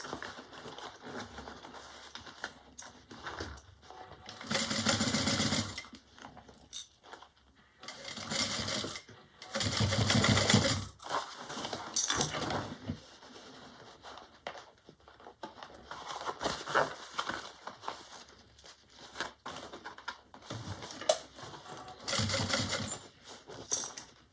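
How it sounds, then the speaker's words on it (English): A sewing machine stitches a Nola bag at a 5/8 seam allowance, running in several loud bursts with short pauses between them. Faint handling noise fills the gaps. "So right now I'm sewing at 5/8."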